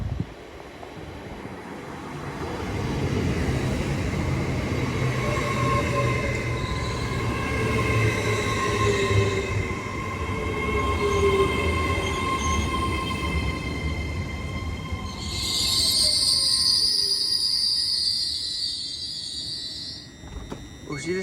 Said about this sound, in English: The next train to arrive is a 802 Transpennine Express going to Liverpool.